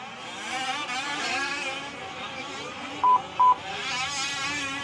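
Quarter-scale RC buggies racing around a dirt track at a Mod buggy main event, their small engines buzzing and whining continuously as they lap, with a couple of short electronic beeps cutting in midway.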